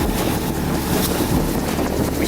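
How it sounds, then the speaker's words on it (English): A sailboat heads into a bay at sunrise, with steady wind rush across the microphone and low water and hull noise running continuously, close and fairly loud, with no voices. "We had timed it just right to be sailing into the bay as the sun came up."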